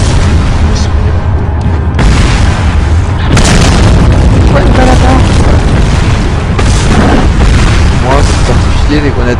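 Loud booming blasts from grenades in Resident Evil 4 fill the stretch, heavy and dense with scattered game effects and a chaotic, sustained roar, without any talk over it.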